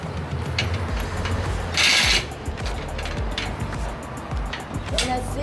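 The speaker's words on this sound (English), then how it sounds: "We're gonna secure the bolts." Bolts tightened on solar panel mounting rails during a patio install, with steady ratchet clicking and metallic working noise mixed with outdoor background rumble and people talking.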